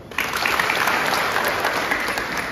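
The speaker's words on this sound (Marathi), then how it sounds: "पण आता जोरात टाळ्या वाजवा." Steady, dense clapping from a large crowd at a village assembly gathering, loud and continuous throughout with no voices over it.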